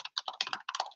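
Quick bursts of typing on a computer keyboard during a coding session, close and fairly quiet, with uneven clusters of key clicks separated by short pauses.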